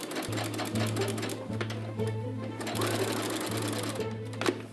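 A sewing machine stitches a seam on a comfy cosplay-style coat, running continuously with a steady rhythmic whir and thump of the needle, loud and close, with no talk over it.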